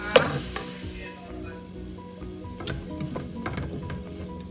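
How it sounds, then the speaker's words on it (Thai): Onion stir-frying in a pan for a hot potato soup, a quiet steady sizzle with scraping stirs and a few clinks of the utensil against the pan. "แล้วก็ใส่หัวหอมเข้าไปเลยค่ะ ผัดตัวนี้หอมเลยนะ"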